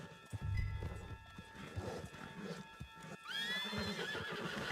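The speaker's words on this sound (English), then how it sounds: "Put Strauss on the back of John's horse and let's get out of here." Horse hooves clip-clop at a quick pace with a whinny in Red Dead Redemption 2 on PS4, set against a busy background of game ambience; no talking.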